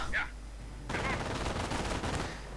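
Machine gun and grenade fire in a strategy video game, with dense crackling bursts of automatic fire after a brief quiet opening, mixed with a voice talking over the action.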